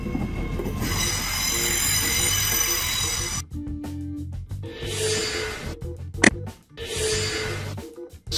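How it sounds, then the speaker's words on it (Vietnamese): A high-speed bullet train rushes past loudly in London, with a steady roar, a brief high whine, and a couple of gusty whooshes as carriages go by. "Bullet train."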